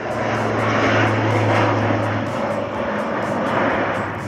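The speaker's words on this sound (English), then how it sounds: "The Antonov 140 is quite a special plane to fly on" Inside an Antonov AN-140 turboprop airliner in flight, a loud steady engine and propeller drone with a low hum fills the cabin, constant and close throughout.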